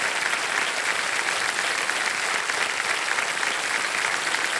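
Sustained applause from the studio audience of the KBC Season 17 quiz show, many hands clapping in an even, unbroken roar that holds steady throughout without speech.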